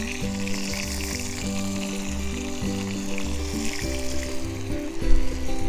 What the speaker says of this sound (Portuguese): a cebola a refogar bem, juntamente com a própria carne